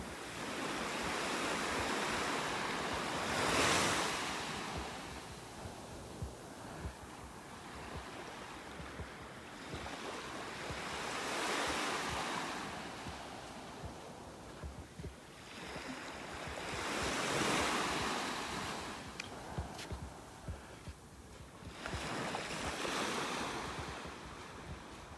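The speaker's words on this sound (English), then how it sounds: "Listen to those little waves." Small ocean waves break steadily on a beach in North Naples, Florida, on a morning walk. The wash and surge rise and fall in slow swells, with some wind rumbling against the microphone and no voices.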